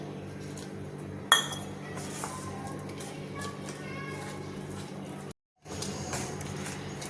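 A spoon clinks against a bowl while patra batter is mixed with small additions of water, a sharp clink early on followed by softer scraping and stirring, then a brief silent break.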